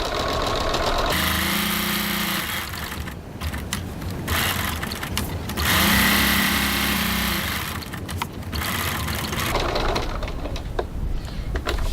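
A sewing machine stitches at a stitch length of 3.4, giving a loud, continuous motorized whir that pauses briefly a few times before starting again.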